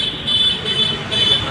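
Busy main road traffic in Dehradun, with a continuous engine and tyre roar and a repeated high car horn tooting twice, close and fairly loud.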